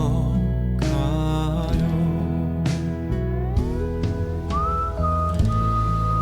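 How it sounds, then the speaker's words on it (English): A whistled melody floats over a steady musical backing, clear and prominent, forming a short whistling passage within a song. "have a little whistle section one time"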